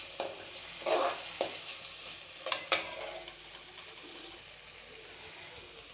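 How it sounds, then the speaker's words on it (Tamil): Tomatoes sautéing in oil in a pan while preparing potato nuggets, with a soft steady sizzle and a few brief stirring clatters, close and fairly quiet, no talking. "இது கொஞ்சம் அப்படியே எண்ணெயெலாம் நல்லா வதங்கட்டும்."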